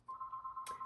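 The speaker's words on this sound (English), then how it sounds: "Please excuse my phone ringing." A phone rings indoors during a card-making session: one steady electronic ring tone, faint and held for most of a second, then cut off by a brief rustle.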